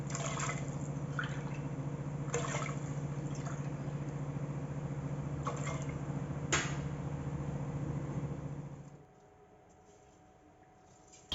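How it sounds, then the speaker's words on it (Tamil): Water poured into a pot of soaked rice and peas, a steady, close pouring stream lasting about nine seconds with a few small splashes, then cutting off to a quiet room. "அதுக்கேற்ற மாதிரி நான் தண்ணி விட்டுக்கிறேன்"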